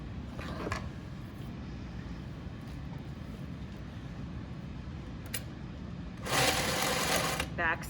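A sewing machine stitches a shirt sleeve seam with a quiet mechanical hum, a few short whirring bursts and a louder run of stitching near the end, while a person talks over it.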